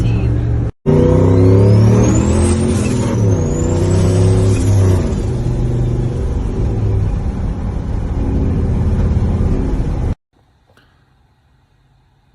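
A cop truck engine with excessive blow-by, loud and close, rumbling and revving with rising and falling pitch for about ten seconds before cutting out abruptly, with a brief break near the start.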